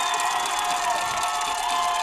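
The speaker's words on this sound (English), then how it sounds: "Crowd making tons of noise, most they've made all night." High school football crowd at a night game roaring and cheering loudly, a dense sustained wall of voices and shouts throughout.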